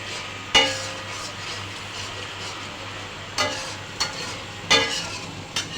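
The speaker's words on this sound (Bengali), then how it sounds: "এটা ভালো করে কষিয়ে নিব যাতে কোনো মশলার গন্ধ না আসে" Spices with turmeric and chili powder stir-fried alongside rui fish in a pan, a steady close sizzle with several sharp spatula scrapes and knocks against the metal, no talking.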